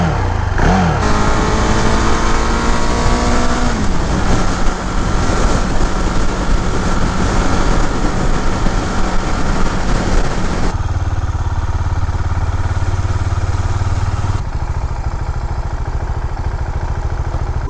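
A 2018 KTM 690 Duke single-cylinder motorcycle on a ride, its engine droning loud and continuous with rising revs early on, then a steady lower rumble mixed with wind noise, no talking.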